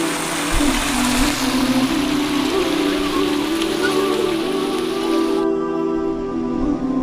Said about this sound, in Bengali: দেখেন পানি কিভাবে ধরতে পড়ছে।